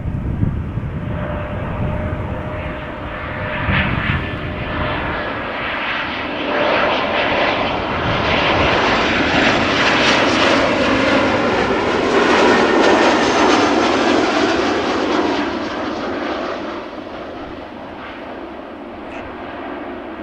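Boeing 757-200 jet engines at Amsterdam Schiphol Airport, a loud sustained roar that swells as the aircraft passes near and then slowly fades away.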